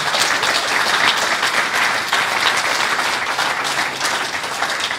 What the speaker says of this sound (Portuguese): eles merecem uma salva de palmas. Já demos uma vez, vamos dar outra vez